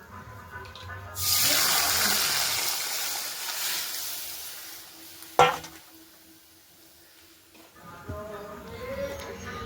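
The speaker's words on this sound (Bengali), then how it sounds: "সবার শেষের দিকে বাসন কটা মাজার জন্য চলে গেলাম" Tap water gushes into a kitchen sink while dishes are scrubbed, a steady broadband rush that starts after a second, with a sharp clatter of a utensil midway and a voice talking faintly in the background.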